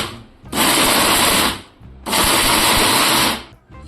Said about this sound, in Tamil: இப்போ வந்து இது வந்து நான் மிக்சியில் வந்து போட்டு வந்துடுறேன்